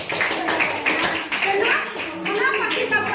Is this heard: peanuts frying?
no